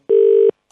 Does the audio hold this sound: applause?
no